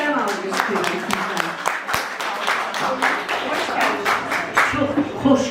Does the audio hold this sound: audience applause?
yes